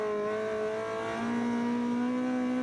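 A rally car engine revs at high RPM during a Quebec rally championship event in 2006, a steady whining drone that climbs slightly in pitch and holds, loud and continuous.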